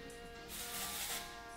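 Texture spray misted onto hair during beach-wave styling, a soft, close hiss swelling for about a second amid quiet, with no talking.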